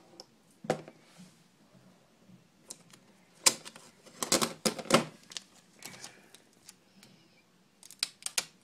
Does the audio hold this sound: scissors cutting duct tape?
yes